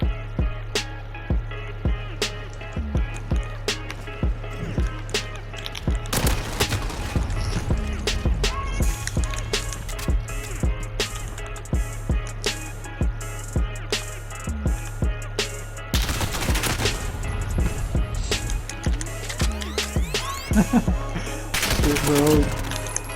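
Rapid bursts of automatic gunfire and single shots from the Call of Duty video game crackle almost nonstop, loud and close, with brief lulls between volleys and overlapping battlefield noise.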